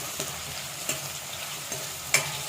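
Ingredients for a chicken dish with dried coconut and poppy seeds fry in a pan with a constant close sizzle, punctuated by four spatula taps and scrapes as they are stirred.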